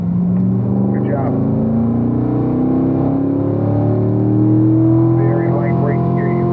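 A Corvette race car on the Spring Mountain track sends a loud, steady engine drone that climbs slowly in pitch as it holds third gear downhill, with someone talking over it.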